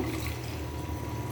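Water pouring steadily into a cooking pot of lentil dal with jute leaves, chopped onion, garlic, turmeric and chili powder, a continuous close splashing gush that fills the whole moment, no voices.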